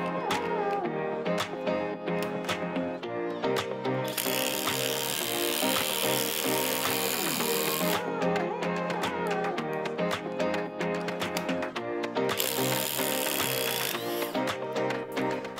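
A Flex Quick Eject impact driver runs on speed 3 with a fully charged 8 amp hour battery, giving a loud, continuous, near hammering rattle that holds for the whole stretch with brief pauses and bright bursts.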